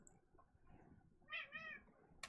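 A house cat meows indoors, two or three drawn-out mewing calls in quick succession, quiet and a little distant over a low background hum.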